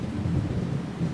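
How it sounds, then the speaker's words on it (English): Rain sound effect for a children's weather lesson, a dense steady wash of falling rain with a low rumbling undertone, continuous and fairly loud with no voices. "That's the sound of rain,"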